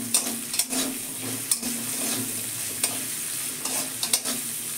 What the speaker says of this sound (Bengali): এবার শাকগুলো দিয়ে দিলাম, গ্যাসটা লো করেই ভালো করে ভেজে নিতে হবে।